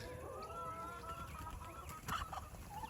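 Laying hens on pasture making soft, low clucks and murmurs, with a slightly louder cackle near the end over faint outdoor background noise.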